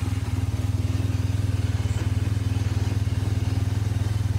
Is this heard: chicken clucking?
no